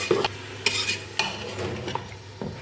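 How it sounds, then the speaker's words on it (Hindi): A spoon scrapes and clinks rhythmically in a pot as meat is stirred with ground red chilli, garam masala, cumin and turmeric. Light sizzling plays beneath the clear strokes, heard close and with no talking. "इन सबको करूँगी मिक्स"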